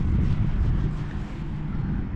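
A Diatone Ripper R690 5S FPV wing flies at half throttle, giving a steady, even motor drone under a constant rush of wind, close and moderately loud with no voices.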